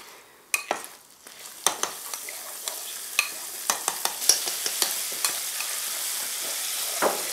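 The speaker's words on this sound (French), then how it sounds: "Le caramel bien formé. On va verser le beurre d'un seul coup, Élise." Butter tipped all at once into hot caramel for mendiants, giving a steady close sizzle with scattered sharp pops and crackles and occasional stirring clinks, no talk.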